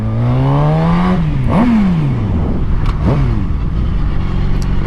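A sport motorcycle engine revs hard and close, pitch climbing then dropping through quick gear changes, loud and continuous with no talk.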